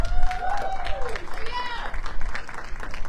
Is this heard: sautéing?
no